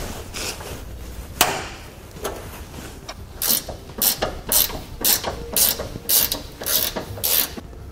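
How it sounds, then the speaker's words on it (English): A ratchet socket wrench loosening a 19mm leaf spring nut on a 2016 Toyota Tundra, an earlier single click followed by a rapid run of rhythmic ratcheting bursts, close and loud. "We'll use a 19mm wrench or socket to remove the nut."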